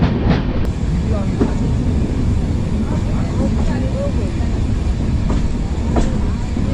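The 12345 Saraighat Express from Howrah to Guwahati runs with a steady, dense rumble and rattle of the carriages and a few faint clicks on the rails, heard from on board and lasting the whole stretch.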